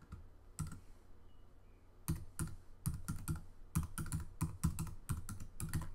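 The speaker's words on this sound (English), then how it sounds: "I'm going to have to type in my Twitter username" Short bursts of rapid key clicks on a computer keyboard as a Twitter username is typed, close and fairly quiet, with a pause before steadier clusters of keystrokes.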